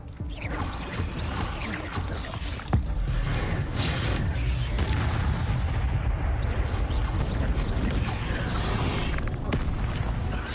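Fire spell cast in the Hogwarts Legacy video game: a loud, sustained roaring blast with a sharp crack near the start, a dense rumbling wash that continues for about ten seconds.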